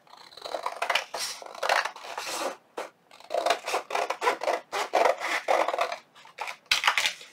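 Scissors snipping paper along a drawn line for a junk journal tag, a run of close, crisp cutting strokes in uneven bursts with short pauses between, no voices.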